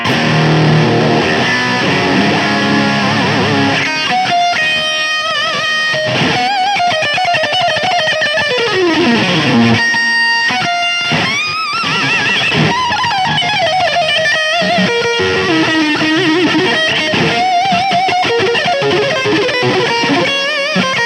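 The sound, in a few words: electric guitar through overdrive pedal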